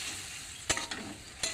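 Mustard paste stir-fried with tomato masala in hot oil gives a steady sizzle, broken by two or three brief scraping strokes of a spatula in the pan.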